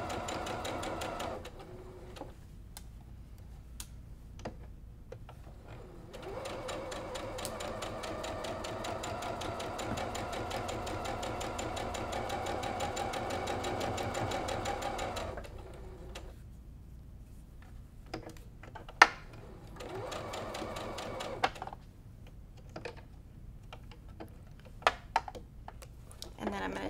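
A sewing machine stitches quilt block pieces along a seam for a Sawtooth Star block, running in long steady bursts of rapid whirring broken by pauses, with soft clicks and quiet talk between runs.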